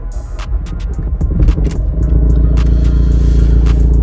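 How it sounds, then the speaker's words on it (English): Vauxhall Vivaro van engine cold-starting with a faulty injection and anti-pollution system: a brief cranking clatter, then the engine catches and settles into a loud, steady, rough idle close by. "We're just going to give it a cold start now, and you'll hear what it sounds like"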